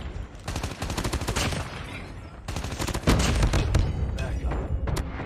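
Rapid automatic fire from an AK-117 in a video game, dense bursts of shots with brief gaps, loud and close, continuing throughout.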